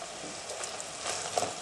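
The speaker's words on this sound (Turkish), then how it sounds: "Şimdi soğan yumuşayana kadar kavuracağız." Finely chopped onion and minced meat sauté in a pan with a soft, continuous hiss, faint and close, with a small scrape near the end.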